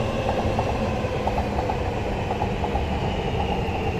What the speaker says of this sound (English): this looks like the Akita Shinkansen